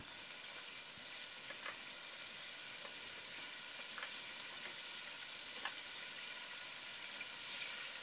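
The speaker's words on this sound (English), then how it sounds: "Fry the pancetta for 2 to 3 minutes to render the fat." Smoked pancetta frying in extra virgin olive oil in a pot, a constant fine sizzle and crackle of rendering fat with occasional sharper pops, close and fairly quiet.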